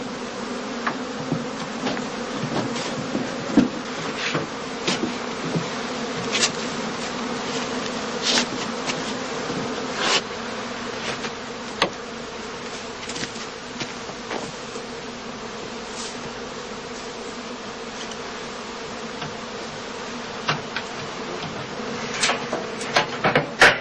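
A continuous, steady hum of honey bees swarming around straw skep hives on open heathland fills the whole stretch, with small clicks and knocks scattered over it.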